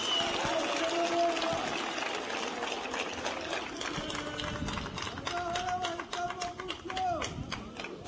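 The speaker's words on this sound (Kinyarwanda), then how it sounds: "Nagira ngo mubampere amashyi tubashimire" An audience applauds at a political gathering of Rwanda's RPF party, a dense, continuous patter of many hands clapping at moderate distance, with someone speaking over it through amplification.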